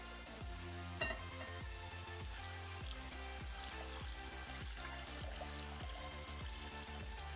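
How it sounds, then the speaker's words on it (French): 750 ml of water poured into Booger Balls powder gives a continuous, steady splashing pour that keeps a fairly even level throughout, with no speech. "Maintenant nous allons mélanger 750 ml d'eau avec notre poudre."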